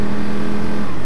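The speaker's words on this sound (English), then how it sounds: "V8 supercars, I think." A V8 supercar racing engine at Killarney Racetrack blares loudly and continuously with a strong steady drone, close and sustained for the whole moment.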